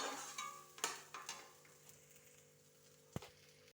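Oil sizzles in a wok as Maggi noodles fry, while a utensil stirs and scrapes, with a few sharp metallic clanks against the pan.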